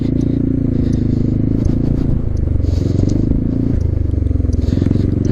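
A Zontes 368G motorcycle rides off-road over loose gravel, its steady engine drone mixed with constant crunching and scraping of stones under the tyres, loud and close throughout.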